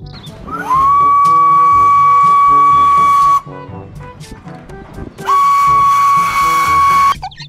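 A toy Thomas and Friends train gives two long, loud, steady whistle blasts, each several seconds long with a short pause between them, sounding close by over quiet background clatter.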